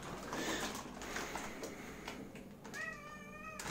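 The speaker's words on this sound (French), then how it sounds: "Le chat qui veut sa potence." A cat meows near a mystery-product unboxing, several rising and falling cries with clear harmonics toward the end, over a steady background of rustling and indistinct room noise.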